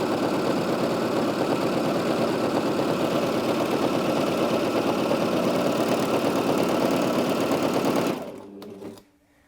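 A Husqvarna Viking Amber Air S 600 coverlock sews a 3-thread overlock stitch, running in a loud, rapid, steady mechanical whir for about eight seconds before winding down and stopping, heard up close with no talking.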